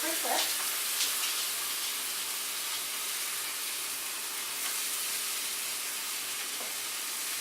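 Keto grilled cheese sizzling in a hot pan after being flipped, a loud continuous hiss and crackle with a brief thump of the turn at the start.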